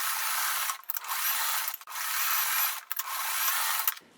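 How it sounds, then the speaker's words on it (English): A sewing machine runs zigzag stitches over a folded fabric edge for a tote bag handle, a close, buzzing motor whir in three bursts separated by brief pauses. "I'm just folding over about 1/4 of an inch, and I'm going to zigzag over that."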